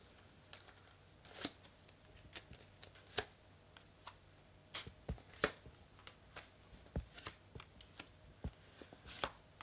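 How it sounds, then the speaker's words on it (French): Tarot cards are spread out on a table, giving faint, sparse close taps and soft slides of cardboard at irregular intervals against a quiet room. "je vais étaler les cartes."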